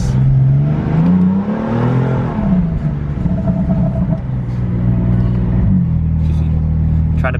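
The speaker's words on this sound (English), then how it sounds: "Currently on the scenic drive here, taking the M3, trying to behave, so I'm in full efficient mode, so it's not really loud and obnoxious" A BMW M3 cruises gently along a scenic lakeside drive, its engine a steady, close low rumble with a smooth whir that rises slightly and then settles into an even drone throughout.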